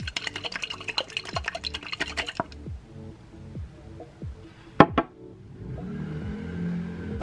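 Three hair oils mixed together in a jar, with a quick run of light clinks and scrapes, then a quieter stretch broken by two sharp taps.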